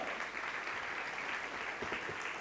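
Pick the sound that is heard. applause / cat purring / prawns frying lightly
applause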